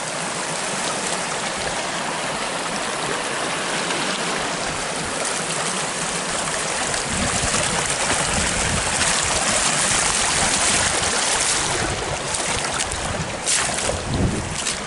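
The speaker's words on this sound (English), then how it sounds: "It definitely got the water coming over the spillway." Water from five inches of overnight rain pours over a spillway in a steady, loud, broadband rush that holds for the whole stretch, with some wind buffeting the microphone.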